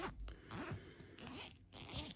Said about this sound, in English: Where they've made a mistake, however, is if we can open this zip up here.